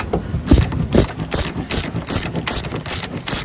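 A hand ratchet loosens a hex nut on a car's bumper cover during turn signal assembly replacement, sounding as a rapid series of close, loud clicking bursts in an uneven back-and-forth rhythm.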